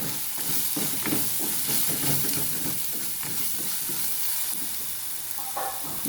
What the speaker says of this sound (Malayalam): ഇപ്പം നന്നായിട്ട് വഴന്നിട്ടുണ്ട് കേട്ടോ.